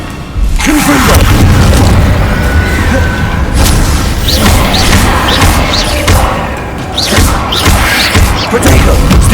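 Confringo blasting spells explode in a Harry Potter video game, loud booming blasts and crashing impacts repeating through the stretch over dense rumbling game noise.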